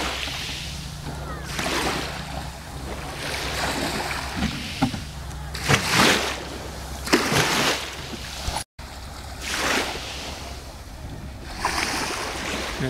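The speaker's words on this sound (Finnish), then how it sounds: "Se on vanhanaikainen moottori, mutta ilmeisesti se on hyvin vahva käyntinen ja varma käynti." An old-fashioned fishing boat motor on the sea at Pattaya runs steadily through the whole stretch, a low continuous drone mixed with wind and splashing water, with louder bursts of surf or spray rising over it.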